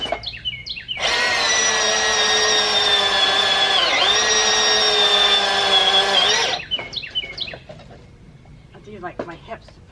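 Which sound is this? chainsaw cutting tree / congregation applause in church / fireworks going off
chainsaw cutting tree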